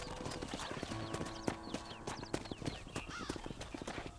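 Hooves clip-clop in quick, uneven steps, near and clear, as a horse is ridden to a ranch stable in a western video game, with faint whinnies and background sounds.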